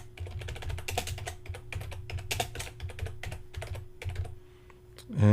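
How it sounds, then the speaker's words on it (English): Steady typing on a computer keyboard while entering website footer text, with dense rapid key clicks and a few heavier spacebar-like strokes, close and clear, ending in a brief louder sound. "So I'll hit spacebar, type in the year,"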